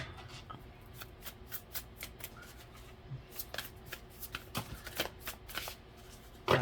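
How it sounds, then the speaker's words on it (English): A tarot card deck is shuffled by hand, producing a run of soft, rapid riffling and flicking bursts, close and quiet, ending in a sharper snap. "Let me do one more shuffle"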